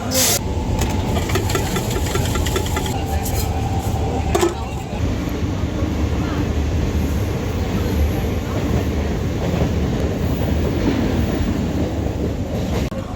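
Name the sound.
local train running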